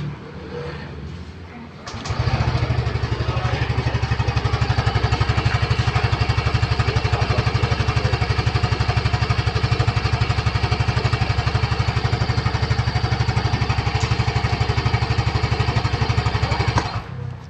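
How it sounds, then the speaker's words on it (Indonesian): A 2022 Yamaha Gear 125 Type S scooter engine starts up after a couple of seconds of quieter background and then runs steadily and loudly at an even idle-like drone, close to the listener, with no talk over it. "sekarang kita dengarkan suara mesinnya ya"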